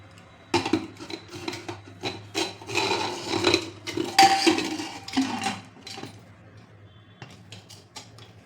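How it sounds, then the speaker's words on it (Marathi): A pressure cooker lid being fitted and closed, heard as a series of close metallic rubs, scrapes and clinks with some wooden knocking, irregular over several seconds, with no talk. "आता आपल्याला कुकरचं झाकण लावून घ्यायचं"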